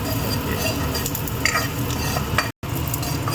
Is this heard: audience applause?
no